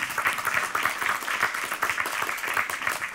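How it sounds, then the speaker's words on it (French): An audience applauds a guest at an evening talk, a steady crowd of many hands clapping close and fairly loud, without voices. "oui, on peut l'applaudir"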